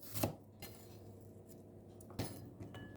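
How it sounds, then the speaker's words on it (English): A knife chops garlic cloves on a board, with a couple of sharp, separate knocks spaced well apart and quiet pauses between them; no voices. "2 to 3 cloves of garlic, minced or chopped"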